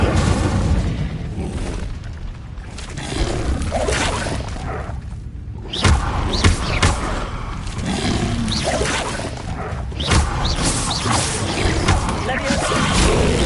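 Hogwarts Legacy's Incendio fire spell on PS5: a loud, dense roaring whoosh with repeated booming bursts, running continuously with game effects and voices mixed in.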